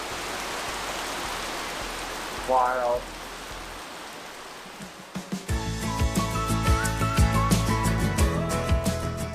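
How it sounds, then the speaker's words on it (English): Heavy rain suddenly pours down at a wooded building site, a dense steady hiss with drops striking hard surfaces, while a person talks. "it literally just opened up, pouring down rain"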